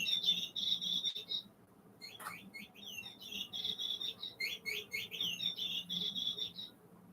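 Pet bird chirping indoors, quick repeated high tweets in bursts with a short pause, fairly faint and close.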